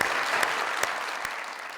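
Studio audience on a talk show breaking into applause, a dense burst of clapping loud and close that continues steadily, with no voices heard over it.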